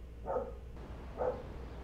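A pair of dogs barking in a home setting, two short separate woofs about a second apart, moderately close and fairly faint, with no talking in between.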